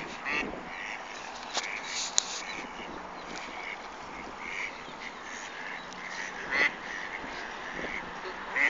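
Ducks quacking outdoors, a few faint calls scattered over a steady wash of background noise, with brief flutters suggesting birds taking off; no clear voices.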